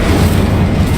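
Incendio fire spell cast in Hogwarts Legacy, a brief loud booming burst of fiery roar filling the moment.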